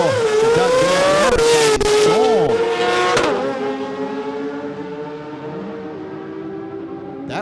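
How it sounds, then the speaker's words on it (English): A Datsun sports compact drag car launching at a drag strip meet, its engine screaming loud and close, with rising revs and gear changes, then fading into a steady drone as it speeds away. "But watch this little Datsun from Sam's."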